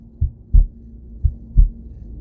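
Heartbeat sound effect, two slow low double thumps, lub-dub, close and loud with a faint hum beneath.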